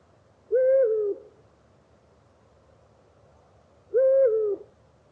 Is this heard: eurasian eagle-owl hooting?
yes